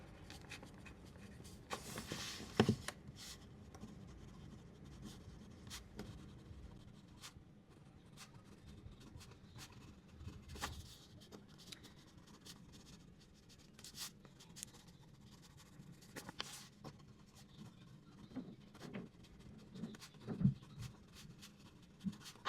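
Pen scratching across journal pages, quiet close strokes in irregular bursts with small taps and rustles, sustained throughout with no talking.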